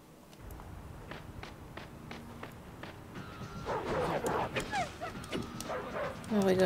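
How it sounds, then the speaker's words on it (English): A dog barks repeatedly in the PS2 brawler Final Fight: Streetwise, with sharp yips and whimpers over footsteps and game noise, growing busier and louder toward the end. "we gotta kill a dog"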